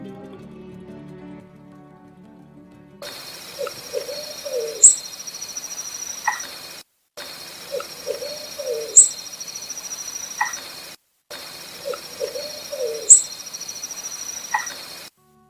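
A recorded night vocalization of possible Bigfoot, a series of low owl-like hoots followed by a sharp knock, heard three times against quiet insect-filled background hiss.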